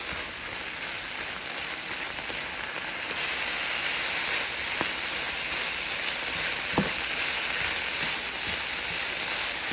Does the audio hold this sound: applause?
no